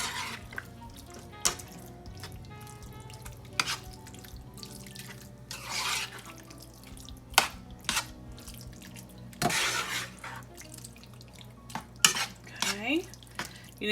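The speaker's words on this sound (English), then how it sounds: "So we're just going to get this simmering." Tomato paste sauce simmering in a pot while being stirred, with repeated utensil scrapes and knocks against the pot over a low bubbling background, close and quiet, no talking.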